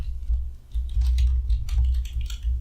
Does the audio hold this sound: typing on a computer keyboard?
yes